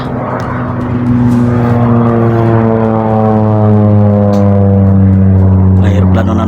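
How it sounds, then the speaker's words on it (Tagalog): Propeller airplane flying overhead outdoors, a loud droning engine hum that swells and holds steady with a strong low harmonic tone, as if passing close above. "May aeroplano na naman idol"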